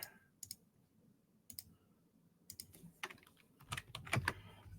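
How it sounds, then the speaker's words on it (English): Keys clatter on a computer keyboard in scattered clicks that build into quicker, denser typing toward the end, faint and quiet with no voices. "she's just typing away at the keyboard"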